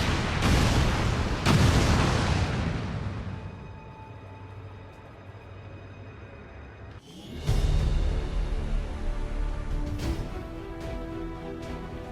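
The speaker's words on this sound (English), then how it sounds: "Detonating charges." Demolition charges detonate in XCOM 2, with two sharp, loud blasts close together that fade into a long rumbling decay, then another heavy explosion with booming debris that trails off.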